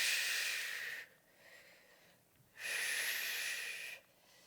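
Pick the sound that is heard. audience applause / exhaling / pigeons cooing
exhaling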